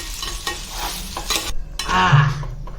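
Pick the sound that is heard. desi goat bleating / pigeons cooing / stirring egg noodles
stirring egg noodles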